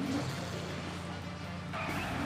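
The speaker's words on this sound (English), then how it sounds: "The traffic in the background's nice." Background traffic from the Sam & Max video game, a steady faint wash of car noise with a brief brighter swish near the end, without talk.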